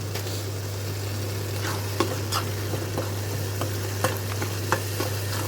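Frying food in a pan being stirred after turmeric is added, a quiet sizzle with a few sharp scrapes and taps of the spoon, over a steady low hum.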